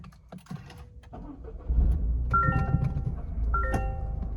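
A Toyota GR Corolla with a 6-speed manual cranks briefly and catches, its engine settling into a steady, loud idle that keeps running at close range, with faint clicks early on.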